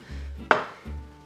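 Knife cutting a lemon into wedges on a board: a single sharp chop in the middle, with faint low hum before and after.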